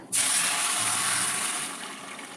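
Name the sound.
pouring water into egg curry (kulambu) in a pan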